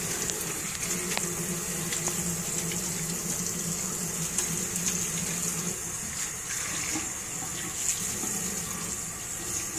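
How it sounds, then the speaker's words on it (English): Water runs steadily from a tap into a sink during handwashing, a continuous close splashing gush with slight fluctuations and no talking over it. "let me wash my hands first"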